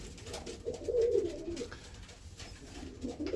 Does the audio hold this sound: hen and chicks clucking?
no